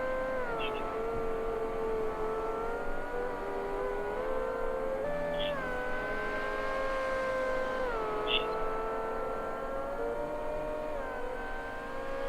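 A race car engine in a racing video game at Road Atlanta, making 350.2 crank horsepower, drones loudly and steadily, its pitch climbing through gears with several brief dips at shifts, with no voices.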